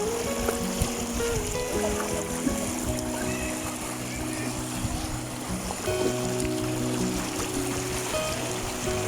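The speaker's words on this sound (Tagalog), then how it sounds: "Lakas kasi yung current ng tubig" A strong river current rushes in a steady, loud wash of flowing water, with voices audible underneath.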